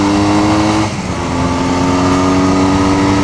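A Honda Rebel bobber motorcycle hums along a road at steady speed, its engine a loud, close, sustained drone with a brief dip in pitch near the start, then holding even, with no voices.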